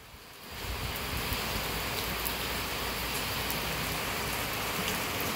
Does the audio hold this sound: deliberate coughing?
no